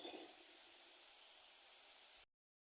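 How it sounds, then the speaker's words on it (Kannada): Snack batter deep frying in hot oil over a medium to high flame, giving a steady, even hiss and sizzle that runs for about two seconds and then cuts off abruptly. "ಇನ್ನೊಂದು ಸ್ವಲ್ಪ ಹಾಕಿ ಅದು ಕೂಡ ಡೀಪ್ ಫ್ರೈ ಮಾಡ್ತಾಯಿದ್ದೀನಿ"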